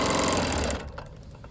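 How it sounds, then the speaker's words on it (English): A longarm quilting machine stitches a binding strip onto a quilt, a rapid, loud mechanical whirr running steadily for about a second before slowing and stopping. "And then I'm just gonna start stitching."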